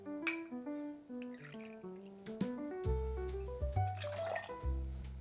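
Forty-five millilitres of bourbon poured for an Old Fashioned cocktail, a soft liquid trickle mixed with light clinks as a melodic music bed plays over it, quiet and close.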